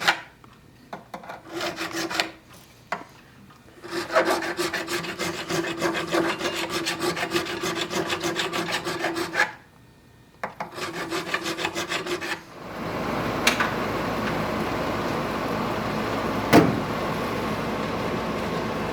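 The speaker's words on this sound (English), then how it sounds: "we'll have to take a fret crowning file, which is the concave file, and hit each fret" A concave fret crowning file rasps over the frets of a Martin HD-28 acoustic guitar during a refret, in repeated close back-and-forth strokes with brief pauses, then a steadier filing sound.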